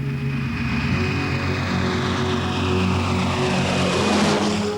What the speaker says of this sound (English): A DC-3 thunders down the runway. Up go the flaps, and the aircraft slowly lifts off the ground.